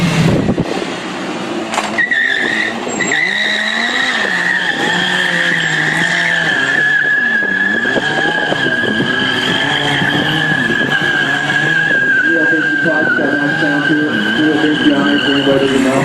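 A BMW S1000RR stunt motorcycle spins in tight circles, its rear tire squealing continuously while the engine revs rise and fall in a wavering pattern, loud and close; a voice speaks briefly over it.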